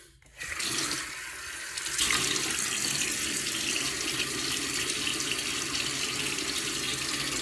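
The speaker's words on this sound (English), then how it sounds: "Let me get my face wet." Water runs steadily from a bathroom sink tap as a face is wetted before a wet shave, a continuous close splashing hiss that starts abruptly and grows a little fuller after a couple of seconds.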